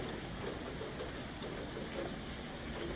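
Heavy, torrential rain in South Korea with a warm wind, a steady dense wash of noise holding even and constant throughout.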